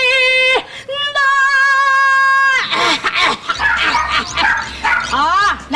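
A dog howls and barks along with a person's sung scale, drawn-out tonal wails then yelps and whimpers, loud and close, mixed with the singing voice.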